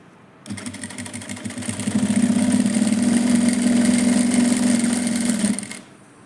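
A sewing machine stitching thread piping runs in one continuous loud burst, its motor whirring and needle chattering rapidly, speeding up after a moment and holding steady before stopping abruptly, with no voices.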